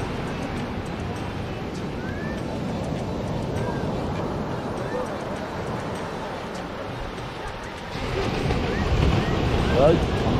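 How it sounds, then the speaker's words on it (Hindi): High sea waves at Kovalam beach make a continuous rushing surf mixed with heavy wind buffeting on the microphone, with a louder surging swell near the end. "आप ये समंदर की उठती ऊंची ऊंची लहरें देख सकते हैं।"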